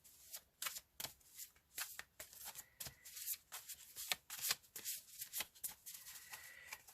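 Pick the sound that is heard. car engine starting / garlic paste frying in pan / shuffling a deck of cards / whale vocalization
shuffling a deck of cards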